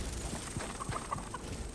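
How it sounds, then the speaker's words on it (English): A few short chicken clucks from a chicken in the Fortnite video game, brief and moderately close over steady background game noise. "A chicken."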